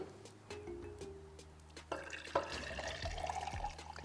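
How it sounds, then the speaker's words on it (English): Vinegar pours from a container into glasses for a kids' home science experiment, a soft trickle building into a steady, rising splashing stream, close and quiet, with no speech. "First, we're going to pour the vinegar into 3 of the glasses."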